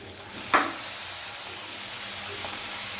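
Marinated chicken hitting hot oil in a pan for a village-style chicken stew gives a steady, quiet sizzle. A brief sharper burst comes near the start as the pieces go in.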